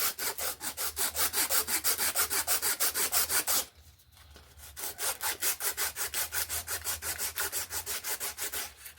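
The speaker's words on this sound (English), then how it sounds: "So I got me some sandpaper here." Sandpaper rubs back and forth over a deer antler knife handle in quick, even strokes, close and rhythmic, pausing briefly midway before the raspy scraping resumes.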